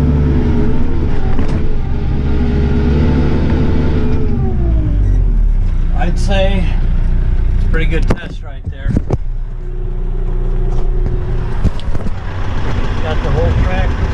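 Kioti RX7320 tractor pulling a home-made chisel plow, engine loud and labouring under heavy load, pitch sagging as it bogs down and stalls, with brief talk and a short drop in engine noise partway through.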